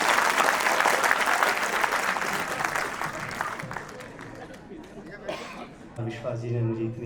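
Loud, sustained audience applause at a Hindi kavi sammelan welcoming a poet, dense clapping that gradually thins and fades, with a voice speaking over the tail end.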